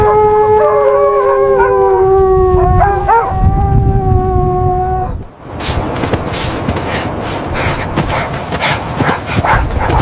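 Dogs howl long and loud in rising, wavering tones, then break into frantic barking and snarling as they attack a man, harsh and close.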